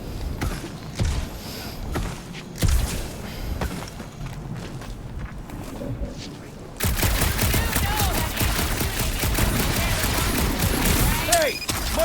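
Dense, continuous gunfire from the video game Marvel's Guardians of the Galaxy erupts midway through and stays loud to the end. Before it come scattered clanks, footsteps and game ambience, with voices mixed in.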